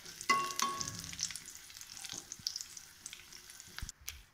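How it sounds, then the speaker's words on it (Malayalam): Cashews and raisins frying in ghee in a pan while making carrot halwa, a soft crackling sizzle with a few sharper pops early on, close and fairly quiet, with no talking. "ഇനി നമ്മുടെ അണ്ടിപ്പരിപ്പും മുന്തിരിയും നന്നായിട്ട് വറുത്തു കോരാം"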